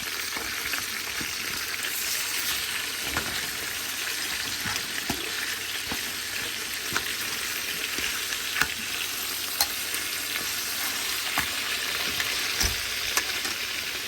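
Jamaican-style oxtail pieces fry in a pot on a gas stove, a steady loud sizzle with scattered scraping and clinking taps as the batch is stirred and turned, and no talk.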